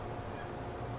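A train in the Transport Fever video game rolls along with a low, steady rumble and a faint high whine, quiet and continuous through a brief moment with no talk.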